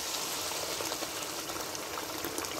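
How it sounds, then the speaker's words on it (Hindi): Boiled water from a kettle pours steadily into a pot of keema rice cooking with peas and oil, a continuous soft splashing gush with no break and no talking. "अब इसमें मैं पानी डाल दूंगी"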